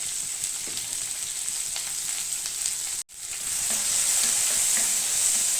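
Sliced onion with mustard seeds, cumin, dried red chillies and curry leaves fries in hot oil, a steady sizzle broken by a brief dropout before the frying grows louder and brighter.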